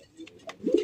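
Silver Sirazi pigeons with mehendi markings give a brief, soft coo close by, with a few faint chirps.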